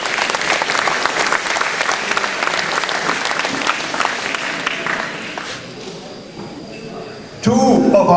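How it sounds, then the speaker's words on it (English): Audience applause fills a hall at a District 6 function, steady dense clapping for about seven seconds before fading, then a voice comes in near the end. "I think that you should give yourselves first a big round of applause"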